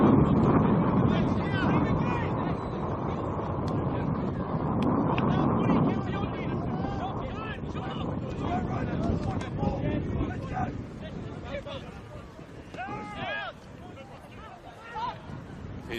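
Strong wind gusts across an outdoor football pitch during a men's league match in Sydney, a loud steady rumble of wind buffeting the microphone, easing slightly toward the end with faint crowd and field noise beneath.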